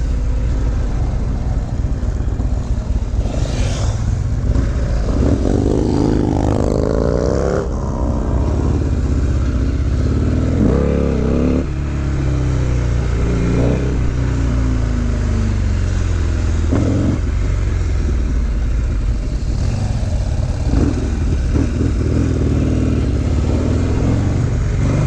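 Motorcycle engine running while riding, with loud continuous rumble and several rising-and-falling rev sweeps as it accelerates and shifts, wind noise throughout and no talk.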